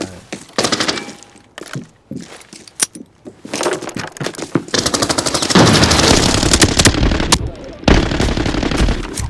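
Bursts of automatic rifle fire in the shooter game Arena Breakout Infinite, loud rapid volleys, sharp single shots and metallic clinks, with a sustained stretch of heavy firing and a voice briefly in the background.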